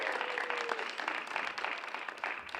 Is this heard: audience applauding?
yes